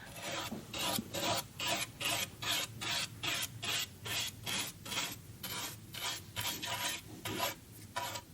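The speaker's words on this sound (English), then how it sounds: "Carefully brushing the instrument." Brush sweeping dust from inside a wooden string instrument, a steady rhythmic rasp of about two strokes per second, close and clear with no talk.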